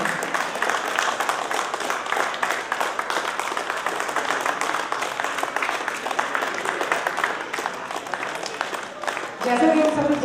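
An audience at a Republic Day celebration held by OT 2020 and Nepal Telecom claps steadily for about nine seconds, a dense, even patter of many hands that fades out before a voice begins speaking at the end.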